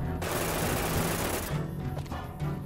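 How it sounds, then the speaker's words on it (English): Gunfire in Fallout New Vegas, a loud, rapid, continuous automatic burst lasting over a second, followed by a few scattered shots and clatter. "Somebody else is shooting at me."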